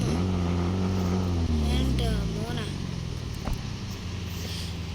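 A newly bought car's engine runs with a deep, low rumble that revs and then settles after a couple of seconds, under a person talking.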